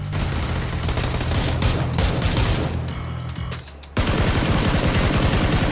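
Rapid bursts of PUBG gunfire rattle loudly, sustained automatic shooting that pauses briefly, then resumes in a harsh, dense volley.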